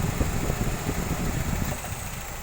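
A car engine of the R18Z block, fitted with K20A ignition coils, idles steadily with a low, even rumble and a faint ticking pulse, loud and close throughout with no talk.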